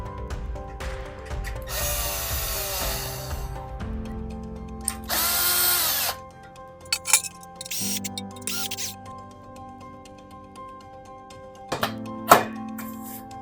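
A power drill fitted with a hex bit drives a screw to join two flat aluminum handrails, with two loud whirring bursts of a few seconds each, then short clicks and a final brief buzz, all close by.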